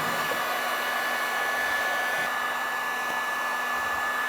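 Heat gun warming a stuck plastic tailgate molding on a 1999-2006 Chevrolet Silverado 1500, a steady close airy whoosh with a faint motor hum that holds even throughout.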